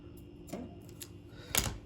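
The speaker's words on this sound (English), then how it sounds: "So trim that, and trim the spectra." Scissors trim the tag ends of a fishing knot in monofilament or fluorocarbon and braided Spectra line, giving two or three faint, close snips spaced within a couple of seconds.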